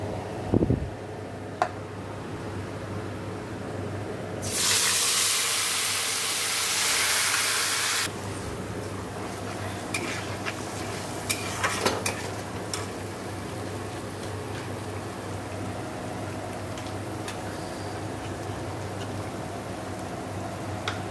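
Ground onion paste hits hot oil tempered with whole garam masala (cardamom, cloves, cinnamon and dried red chilli), bursting into a loud, steady hiss for a few seconds before settling into a quieter background of faint ticks and clinks.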